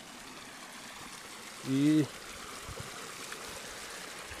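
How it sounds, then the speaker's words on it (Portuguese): A river running high after heavy rain, a continuous rushing wash of flowing water heard nearby, with a brief voice cutting in partway through. "tá de água escorrendo desse rio"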